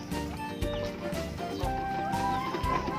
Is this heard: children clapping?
no